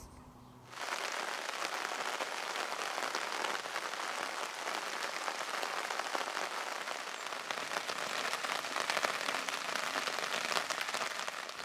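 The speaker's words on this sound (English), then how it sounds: "it has been raining all afternoon and it's going to keep going into the night" Rain falling on a tent pitched in a garden, a sudden onset into a dense, steady patter and hiss of drops on fabric, close and continuous without letup.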